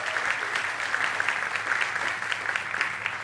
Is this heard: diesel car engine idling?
no